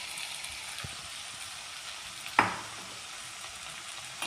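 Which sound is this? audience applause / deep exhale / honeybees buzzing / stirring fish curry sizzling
stirring fish curry sizzling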